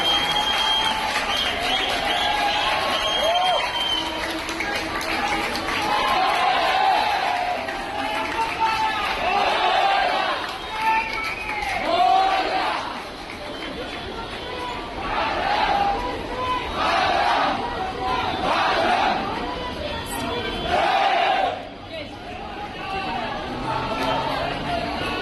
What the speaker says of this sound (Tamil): அப்போ அந்த மக்கள்லாம் எழுப்பின கரகோஷம் ஆரவாரம் இருக்கு